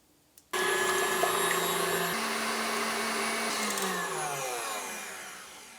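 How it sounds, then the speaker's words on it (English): A stand mixer fitted with a whisk attachment whips egg whites, its motor starting abruptly into a loud, steady whirring whine that holds for several seconds before dropping slightly in pitch and easing near the end. "To our stand mixer, we're going to be adding the whisk attachment, and we're going to be adding in our egg whites."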